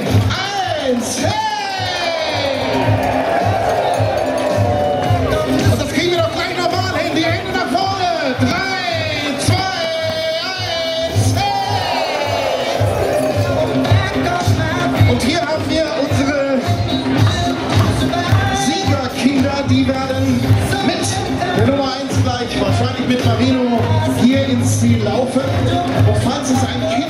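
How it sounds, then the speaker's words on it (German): A large crowd at an Ironman party at Frankfurt's Römer square cheers and whoops in a continuous roar as a wave sweeps toward the finish arch, with yells and voices dense throughout. "Und gleich startet die Welle genau von hier hinten in Richtung Ziel"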